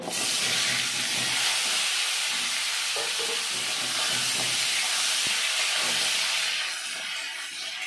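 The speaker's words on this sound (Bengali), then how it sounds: "ওই তেলে আমি আলুগুলো ভেজে নেব।" Potatoes deep-frying in hot oil after fish in a Bengali kitchen, a loud, steady bubbling sizzle and hiss that runs throughout with a few faint clinks of utensils, no talking.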